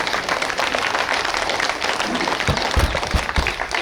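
An audience at a yoga workshop in a university physical education department claps loudly, a dense round of applause with a few sharper, heavier claps standing out near the end.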